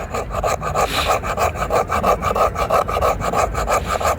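A Bark River mini Kephart knife spine scrapes fatwood in steady rhythmic rasping strokes, close and loud, shaving off fine curls with a continuous scratchy texture.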